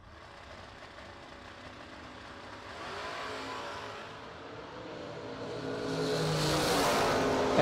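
A Camaro drag race car builds from a low rumble into a rising, increasingly loud engine roar as it launches at the Ultimate 64 drag racing event, with no talk over it.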